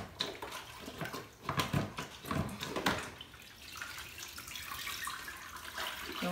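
Running water soaking a floor cloth during house mopping: a steady splashing, gurgling flow with sloshing, close by and fairly quiet, without any talking.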